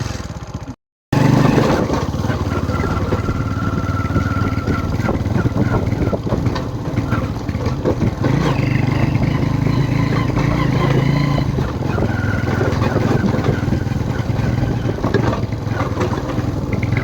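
A Royal Enfield Bullet motorcycle engine runs steadily while riding in rain, a continuous loud, close thumping drone that carries on almost without a break.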